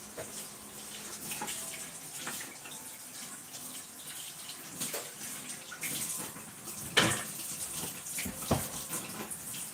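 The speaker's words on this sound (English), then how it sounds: "just take a second to wash this" Tap water runs steadily into a sink while items are washed underneath, splashing and shifting, close by, with no talking.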